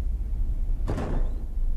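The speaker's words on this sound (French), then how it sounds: "Allez, allez, Bonnie, ouvre la porte" A door opened by Bonnie in a Five Nights at Freddy's fan game: one short sliding scrape, fairly loud and close, over a low background hum.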